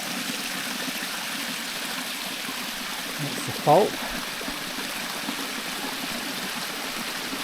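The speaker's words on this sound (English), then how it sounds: "Bit of cold running water in there." A small stream of cold water runs near a backcountry hot pool, giving a steady, quiet rush that lasts the whole time. A short voice breaks in once over the flow.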